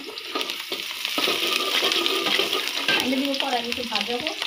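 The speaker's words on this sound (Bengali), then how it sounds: "বিরিয়ানিতে পেঁয়াজ ভাজতেছে, মশলা দিয়ে দিছে।" Onions and spices sizzle and fry in a pot of homemade biryani, a steady loud crackling hiss with stirring scrapes throughout, close by.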